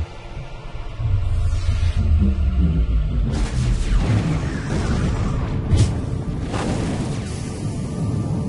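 An explosion in the video game Darkstar gives a loud, deep boom that swells into a long rumbling roar with crackling bursts. It is heard alone, with no talk over it.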